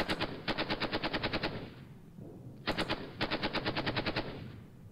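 Machine-gun fire in the wargame Panzer Battles North Africa 1941, two loud rapid bursts of evenly spaced shots, each lasting over a second, with a brief pause between them.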